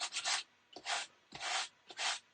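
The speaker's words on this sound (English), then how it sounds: "I can still come back with my sanding block" Four rough, raspy strokes of a sanding block rubbing across a surface, each lasting about half a second with brief pauses between them, close and clear.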